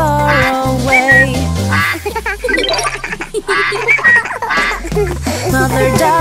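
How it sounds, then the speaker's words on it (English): Cartoon duck quacks in a children's nursery song about five little ducks, repeated bright quacking calls set against loud music with bells and tinkling accents. "Mother duck said quack, quack, quack, quack"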